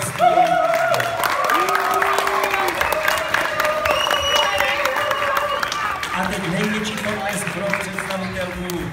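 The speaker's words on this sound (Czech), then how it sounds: "Veliký potlesk pro představitele princeze Zlatého království." Audience at a children's fairy-tale stage show applauds and cheers for the performers, a steady wash of clapping with voices and shouts mixed in throughout, fairly loud and continuous.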